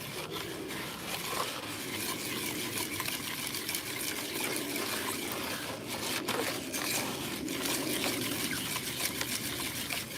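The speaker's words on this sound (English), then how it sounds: "and then just poured some water." Water poured into a bucket of concrete mix while making homemade weights, a continuous close rushing and splashing that holds steady for about ten seconds, with no voices.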